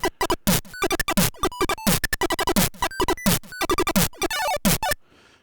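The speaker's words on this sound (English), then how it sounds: "he's using the square wave like a kind of a melody" Bright, buzzy chiptune square-wave melody in quick staccato notes with short gaps, loud and close, ending in a brief faint tail.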